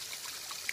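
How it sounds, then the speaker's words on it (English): Low-flowing spring water trickles out of a pipe feeding a small micro hydro system in Colorado, a steady faint splashing and gurgling with no voices. "came up to measure the amount of water coming out of the springs"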